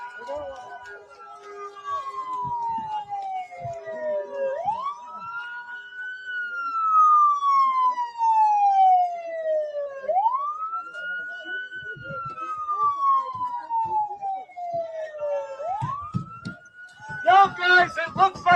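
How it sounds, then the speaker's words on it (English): A police car siren wails in long rising and falling sweeps, moderately distant, under street noise and occasional voices, ending in a short burst of faster yelps. "If he blows his siren like that, it's probably a decoy."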